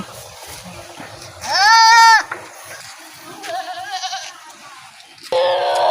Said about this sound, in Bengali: দেখতে পাচ্ছি যে অনেকটি ছাগল আসছে